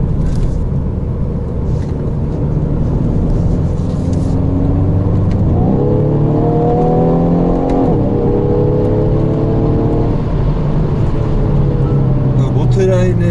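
A 2018 Hyundai Veloster 1.6 with a dual-clutch transmission accelerates from inside the cabin, its engine note rising in pitch through a quick upshift and then climbing again, loud and continuous under a steady road rumble.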